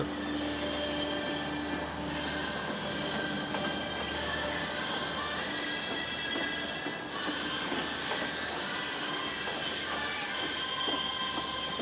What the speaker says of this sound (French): L'Eastern and Oriental Express quitte Warrnambool Station.